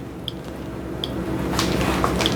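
Ninja single serve coffee maker dripping coffee near the end of a brew cycle, a few soft close drips and a faint liquid splash over steady machine hum, with no talking.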